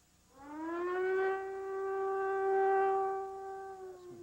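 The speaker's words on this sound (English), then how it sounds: "air raid sirens were heard again in Jerusalem" Air raid siren over Jerusalem during the 1991 Gulf War, one long wailing tone that rises, holds steady and slowly swells and fades at a distance, with no voices.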